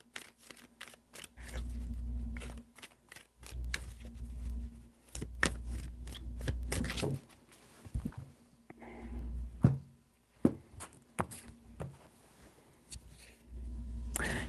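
A deck of tarot cards is handled and shuffled nearby, giving a run of soft repeated flicks and papery slides with brief sharper snaps between quieter pauses.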